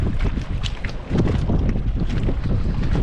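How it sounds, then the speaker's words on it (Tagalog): A strong amihan northeast monsoon wind blows nonstop across an island. It roars and buffets the microphone in a loud, continuous rumbling gust with no pause. "Grabe amihan, ay wala nang tigil."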